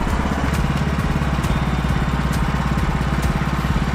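A sawmill engine runs at full throttle while cutting a log, a loud, steady, close mechanical drone with a rapid regular pulse and no pauses.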